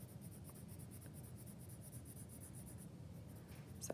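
A colored pencil rubs up and down on paper in a quiet, steady scratching rhythm, close and soft, with no talking.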